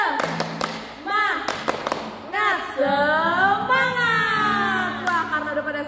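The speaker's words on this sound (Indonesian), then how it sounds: "tepuk semangat" Children at a combined Sunday school class in an Indonesian church clap in a quick rhythm and chant together loudly. Sharp, close claps open the chant, and then the sung voices carry on over steady room noise.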